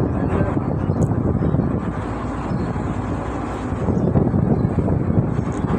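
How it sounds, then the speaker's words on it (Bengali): Strong, steady wind roars across the microphone on a ferry deck crossing from Paturia to Daulatdia, with a low rumbling undertone, continuous and loud throughout, no pauses. "মনে হচ্ছে অনেক বাতাস।"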